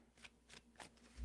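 Tarot cards are shuffled quietly in three short riffled bursts, close and soft, ending in a low thump.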